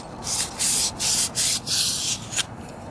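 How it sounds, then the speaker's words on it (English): Sandpaper is spun inside a scooter CVT part in several loud, close, rasping bursts, each lasting about half a second, separated by brief pauses over a low background rumble. "Put some sandpaper inside and just spin it like this."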